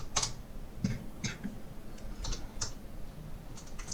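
Someone types a SQL query on a computer keyboard, producing quiet, irregular key clicks in small bursts with short pauses, close and soft, with no voices.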